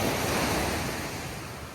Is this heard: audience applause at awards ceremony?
no